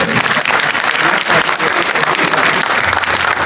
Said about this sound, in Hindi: प्लीज तालियां जरा